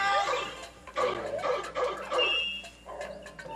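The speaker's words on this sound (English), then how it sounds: "Point the dogs out!" Dogs in a video game bark and yip in a rapid cluster of short, fairly loud calls with a few whimpers mixed in, with little talk over them.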